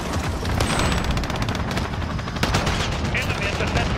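Sustained heavy machine gun fire from a chopper gunner killstreak in a Call of Duty-style hardpoint match, loud rapid bursts with explosions and game announcer voices mixed in.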